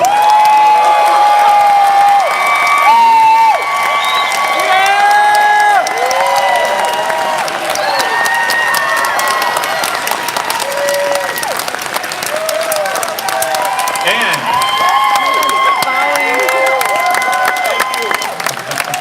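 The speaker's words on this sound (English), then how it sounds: "give a big round of applause for the host of the Kyle Kulinski Show, Kyle Kulinski" A crowd applauds, cheers and whoops as a host walks on stage at a Politicon debate event, loud and continuous, with bright shouts rising over the clapping.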